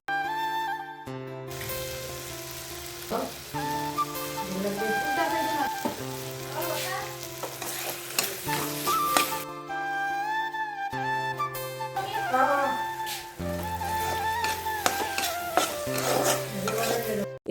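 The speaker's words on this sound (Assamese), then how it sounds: "সেইখিনি অলপ টাইম ভাজি তাত সোৱাদ অনুযায়ী নিমখ দিলো আৰু হালধি দিলো" Tomatoes, onions and ginger-garlic paste fry in a pan with salt and turmeric, giving a steady sizzle and occasional stirring scrapes beneath soft tonal background music.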